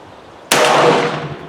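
A single sharp shot from a Palmetto State Armory PSA AKV 9mm rifle at an outdoor range, loud and close, with a crack followed by a decaying echo.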